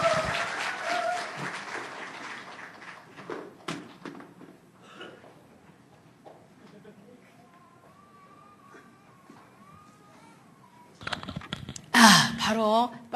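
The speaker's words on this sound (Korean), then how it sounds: "박수 부탁드립니다." Audience applause at a church lecture session, a sudden burst of clapping near the end following quieter talk and ambient room sound.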